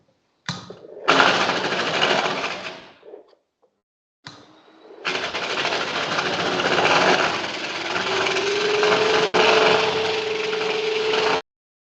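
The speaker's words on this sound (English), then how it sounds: "And now we are on the connection, and then I just start to grind it open." A robotic grinder cuts open a lateral connection inside a sewer pipe, a loud, sustained high-pitched whirring grind that stops briefly, then resumes and runs steadily with a rising tonal whine.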